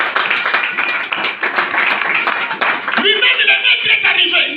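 A church congregation claps along during a sermon on faith, a dense wash of hands filling the room for several seconds, with a voice speaking over it.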